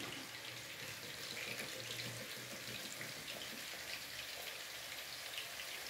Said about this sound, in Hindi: और अब ना इसमें हम डालेंगे सेवन अप।